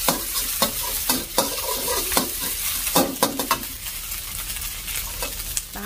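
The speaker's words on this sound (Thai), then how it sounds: "ตามด้วยไข่ไก ่ผัดให้เข้ากันกับกระเทียม" Egg and garlic are stir-fried in a pan with a steady sizzle, punctuated by repeated scraping and tapping from a spatula, close and busy throughout.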